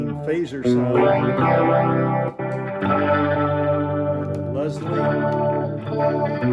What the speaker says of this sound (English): This is a clean phaser sound.